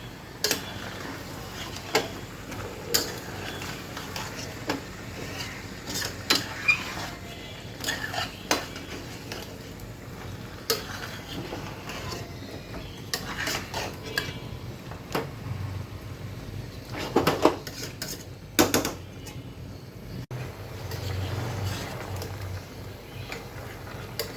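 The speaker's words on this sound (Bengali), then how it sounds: "এখন ভালো করে নেড়ে চেয়ে দিচ্ছি" A spoon stirs chicken curry with homemade yogurt in a metal pot, making sparse, irregular clinks and scrapes against the pot over a quiet background hum, with no talking.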